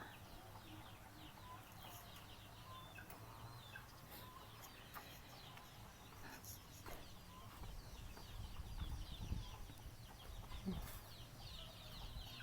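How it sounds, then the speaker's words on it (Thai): Two turkeys on a rural farm give faint, scattered clucking calls that grow a bit louder toward the end, heard over quiet outdoor ambience. "ไก่งวงนะทุกคนเหลือสองตัวไปซื้อไก่งวงมา มาเลี้ยง"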